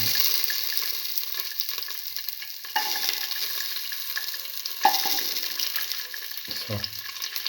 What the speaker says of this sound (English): Heat the pan, pour in 10 ml of oil,